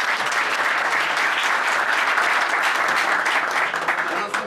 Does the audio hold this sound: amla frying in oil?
no